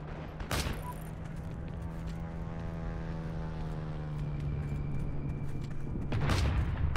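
Propeller aircraft in the World War II shooter Heroes and Generals droning overhead, a sustained engine hum swelling as it passes, with sharp gunfire bursts at the start and end.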